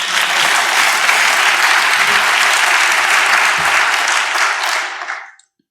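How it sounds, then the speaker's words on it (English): Loud, sustained applause from a conference audience after a short biomedical science talk, a thick even roar of many hands that holds steady and then fades out quickly at the close. "You can clap now."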